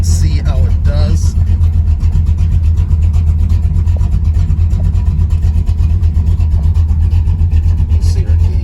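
A 1975 Pontiac Firebird Trans Am with a 455 engine driving, its loud, steady, deep engine drone filling the whole stretch, with a brief voice near the start.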